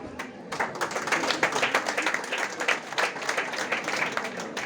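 An audience at a Tulu film event claps and applauds continuously, a dense, lively patter of many hands throughout the short burst, fairly close.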